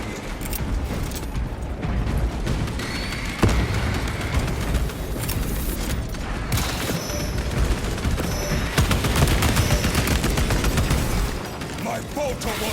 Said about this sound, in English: My bolter will silence you!